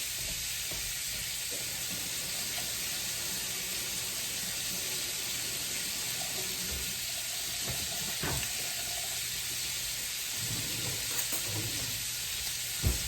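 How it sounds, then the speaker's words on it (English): Meat browns in a skillet over medium-high heat, giving a continuous, even sizzle and hiss with occasional scrapes and small pops, close and steady, with no talking. "we want to make sure that we brown this off in our skillet"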